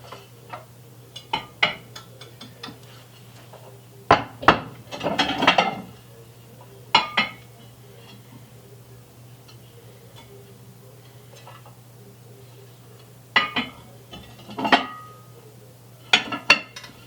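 Gold-trimmed beaded dishes clink and tap together as they are arranged for a small-space display, several sharp clusters of contacts with quiet pauses between them over a low steady hum.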